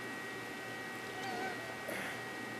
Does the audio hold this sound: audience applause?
no